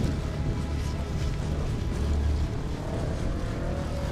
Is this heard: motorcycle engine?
yes